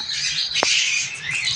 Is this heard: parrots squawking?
yes